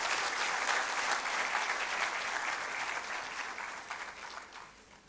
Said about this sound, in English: I thought we would give WACCBIP a round of applause.